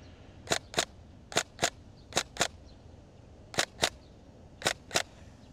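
Sharp airsoft shots from a gun with helical gears, set to binary on semi-auto, crack out in quick pairs, four double bursts spaced across the clip, loud and close against a faint background hiss.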